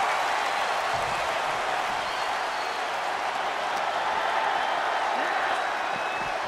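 Broadband crowd roar from a wrestling video game arena, a steady wash of cheering and applause held at a constant level throughout, with no distinct individual voices standing out.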